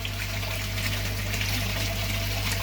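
Water from a freshly cleaned pond filter runs back through in a constant close gush and trickle, with a steady low pump hum underneath and no talking.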